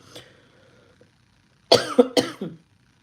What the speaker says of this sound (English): I can't stop coughing and my eyes start crying.